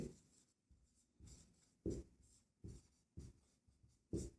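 Pen strokes scratching across paper while working out a probability problem in a Class 10 maths lesson, coming in short bursts of scribbling with taps between them, close and fairly quiet.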